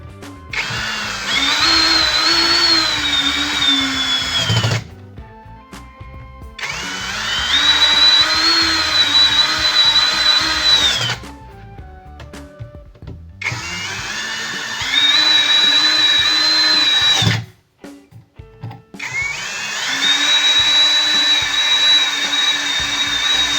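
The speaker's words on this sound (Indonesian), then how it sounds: "kita tinggal mengencangkan untuk baut penguncinya supaya lebih mantap dan aman tentunya" Power driver tightening locking bolts while assembling an MP3 player, four sustained whirring bursts of about five seconds each separated by short pauses with small clicks, loud and close.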